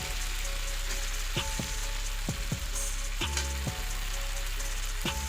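Chopped tomatoes sizzle steadily in a hot pan with spices and coriander powder for a fish curry, with occasional scraping stirs cutting through the constant hiss.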